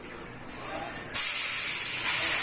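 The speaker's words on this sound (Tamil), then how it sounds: "இப்போ நம்ம மாங்காயை போட போகிறோம்." Raw mango pieces, a medium-sized grafted variety, tipped into hot sesame oil already tempered with mustard seeds, asafoetida and turmeric for mango thokku, setting off a loud broad hiss that jumps up sharply and keeps sizzling steadily with no talk.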